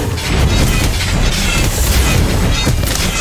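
A Confringo blasting spell goes off in the Harry Potter: Magic Awakened mobile game as a loud, dense explosive boom with a crashing rumble that fills the whole moment without letting up.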